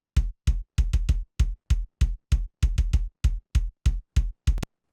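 Four layered rock kick drum tracks play together as a dense, punchy pattern of about nineteen close, heavy hits, each with a sharp click and deep thump, with no other sound.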